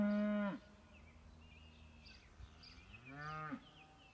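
Cows and a bull moo twice, a long low call at the start and another rising moo near the end, fairly close in an otherwise quiet outdoor setting.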